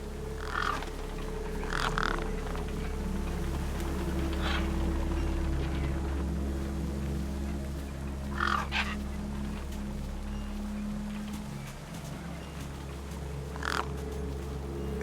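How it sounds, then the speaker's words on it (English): Gang birds in Beyond a Steel Sky caw in short harsh bursts, spaced irregularly over a low steady ambient hum. "Gang birds were eyeing up the corpse hungrily."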